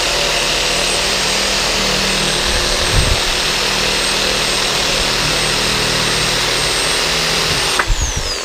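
A Sawzall reciprocating saw cuts through construction softwood with a loud, steady buzzing drone that runs throughout, close up, with a brief change in pitch near the end as the blade finishes.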